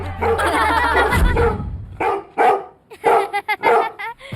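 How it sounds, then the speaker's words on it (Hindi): A dog barks repeatedly in short, loud bursts with some whimpering yips, close by and mostly on its own, in a broken, uneven rhythm. "आधी रात से ये ऐसे ही भौंक रहा है, ठीक से सोने भी नहीं दिया इसने।"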